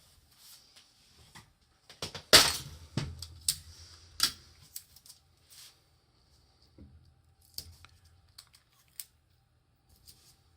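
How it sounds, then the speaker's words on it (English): Tape is pulled and pressed to join two layers of black paper for a papercut. The result is a run of close crackles, sharp rips and small taps with a louder burst near the start, then scattered quieter clicks. "Just going to tape 2 layers together."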